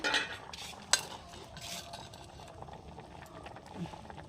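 Potatoes simmering in a little water in a pot, checked with a spoon: faint metallic clinks and stirring scrapes, one sharper tap, over a quiet low bubbling, with someone speaking softly.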